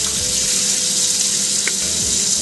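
Tap water pours steadily into a sink as rice is rinsed in a pot, a loud, close, continuous rushing hiss with one brief clink partway through and no voices.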